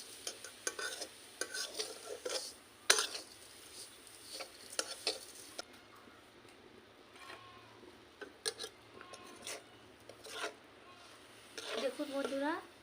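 Sugar is stirred in a pan for a village-style carrot cake, giving faint scraping and clinking with soft sizzling, under quiet talk.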